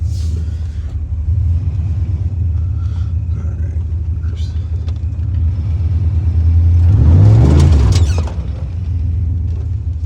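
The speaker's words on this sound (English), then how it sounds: "we're gonna try to pull the classic reverse real fast and slam on the brakes" A cheap Polaris XC snowmobile in mud is gunned hard in reverse before the brakes are slammed: a loud, close, low engine rumble holds steady, then swells into a heavier roar near the end before easing off.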